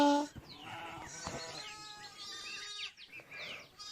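A voice imitates a sheep bleating, with several wavering nasal "meh" cries in a row, close and fairly clear against a faint background.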